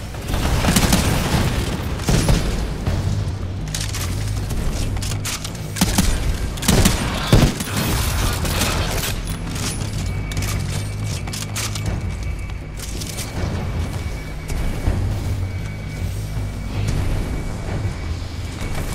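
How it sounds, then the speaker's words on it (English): Mortar spectres pound the harvester in a Titanfall 2 Frontier Defense match, with dense, continuous explosions and booming impacts mixed with rattling gunfire, loud and close throughout. "Mortar specters are still hitting the harvester."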